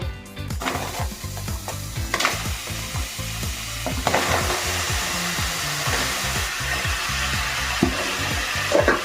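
Tomatoes sizzle loudly in a hot wok at the start of a fruit chutney. The frying is steady and close, with clattering stirring knocks and no voices.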